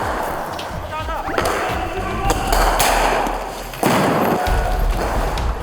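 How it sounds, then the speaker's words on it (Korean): Gunfire crackles during simulated combat training between a unit and an opposing force, with sharp bursts and thuds over a busy outdoor background while voices talk over the action. "인정사정 없는 총격전이 펼쳐지고"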